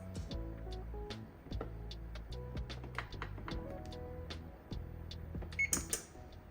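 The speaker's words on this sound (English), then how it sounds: "Preheat the oven to 425 degrees." An oven preheating to 425 degrees, with a series of short clicks and ticks from its controls and a few brief beeps near the end.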